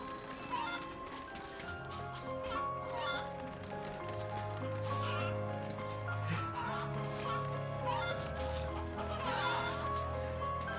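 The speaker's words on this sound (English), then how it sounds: "The chickens, of course, run from Dan because he's a big, scary skeleton monster." Chickens clucking in the 2019 MediEvil remake, repeated short clucks and squawks scattered over a sustained musical background, moderately loud throughout.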